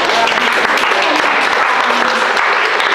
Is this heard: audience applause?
yes